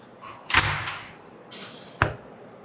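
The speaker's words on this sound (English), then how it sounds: "I guess we won't see because the door is locked." Someone tries to open a locked laboratory door: a sharp rattling handle jolt and thud, a softer second rattle, then a short hard knock, with no talk.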